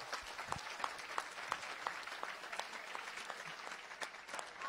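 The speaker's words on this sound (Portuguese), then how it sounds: "E esses também merecem as palmas." Steady audience applause for a church youth team, a continuous patter of many hands clapping at moderate volume with no talk over it.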